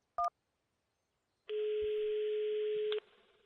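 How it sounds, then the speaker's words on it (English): Telephone in the adventure game Runaway: a single short dial-tone beep, then a sustained steady electronic tone lasting about a second and a half before cutting off, clean and isolated. "And why is you calling from Sad Belly's phone number?"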